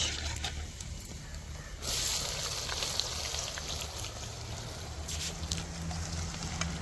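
Cumin and onion fry in a pan, giving a steady, moderately loud sizzle with a low rumble beneath, swelling briefly as the onion goes in and continuing evenly with occasional faint crackles.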